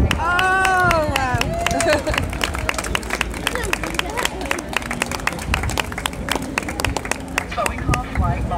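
Audience applause at the Edinburgh Fringe: a crowd claps steadily and loudly with scattered whoops, and a raised voice can be heard over the opening second.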